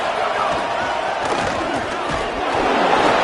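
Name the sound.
football stadium crowd cheering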